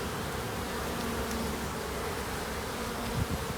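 Honeybees buzzing steadily at a beehive in February, a dense continuous drone of many insects close by, with no voices.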